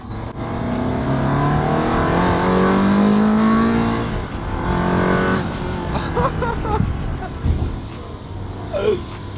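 A Ferrari 360 Spider V8 runs and drives nearby, its engine note rising and falling through gear changes with a loud, steady drone and a few slight dips in pitch.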